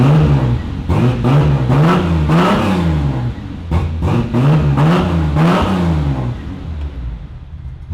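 A Ford XG ute fitted with a stage 4 cam revs hard and close, its loud, lumpy engine note repeatedly climbing and falling in several throttle blips before settling to a rough idle.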